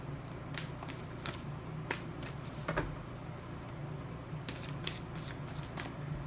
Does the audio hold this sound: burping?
no